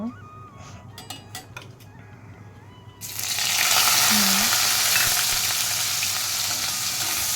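Okra sizzles loudly in a pan as frying suddenly intensifies into a steady broadband hiss, after a quieter opening with faint clinks of a spatula stirring.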